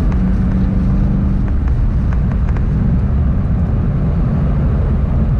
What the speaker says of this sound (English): Especially the whining of that damn supercharger.